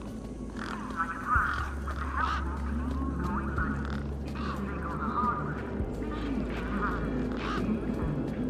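A flock of birds near a truck in the futuristic city of Beyond a Steel Sky squawks and honks in repeated harsh calls over a steady low hum, with a voice talking among them.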